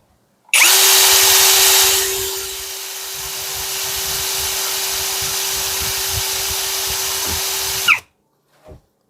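A VRILL cordless hammer drill runs at speed 1 in high-torque mode, a loud steady motor whine with a constant pitch that starts abruptly, eases slightly after the first seconds, holds, then stops sharply.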